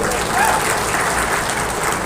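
At a Karimnagar election rally, a crowd applauds to welcome KTR with dense, sustained clapping, while an amplified announcer keeps speaking over it.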